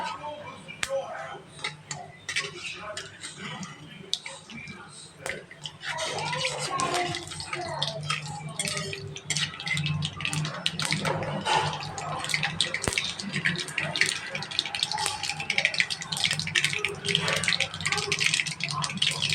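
Mustard and cumin seeds spluttering in hot oil while making churumuri, a dense stream of small crackling pops and ticks continuing steadily over a low background hum.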